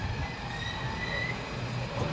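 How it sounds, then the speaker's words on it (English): Train rolling over railway tracks, a steady low rumble with faint high wheel squeal running continuously, fairly close and without pauses. "even while the train is passing over the affected area"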